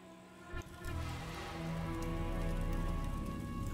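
Steady rain pours in a horror video game, a dense continuous hiss with low rumble that holds level throughout after a brief swell near the start, with no voices.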